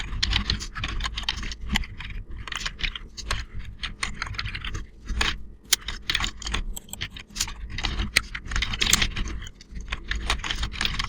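Rapid keystrokes clatter on a computer keyboard as code is entered into an Excel VBA editor, an irregular, close, steady run of clicks with a few louder taps and no voices.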